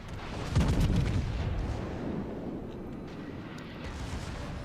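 Heavy naval gunfire from the French battleship Jean Bart in the World of Warships video game: a loud booming salvo followed by a continuous rumbling barrage of distant shots and blasts, with no speech.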